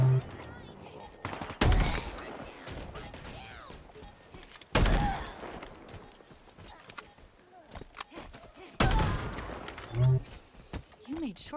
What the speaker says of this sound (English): No, it is a shotgun.